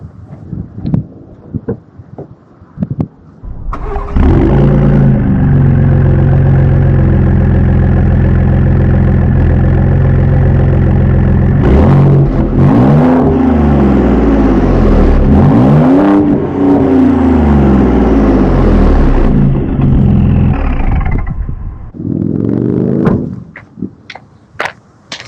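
A 2018 Ford F-150 Raptor with a 3.5 EcoBoost twin-turbo engine and Borla exhaust starts up loud and close, idles with a deep burble, then revs up and down twice before settling and shutting off amid wind noise.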